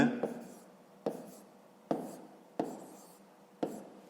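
Handwritten numbers on paper: five or six sharp pen taps and strokes spaced about a second apart, close and fairly quiet, with faint traces of a voice between marks.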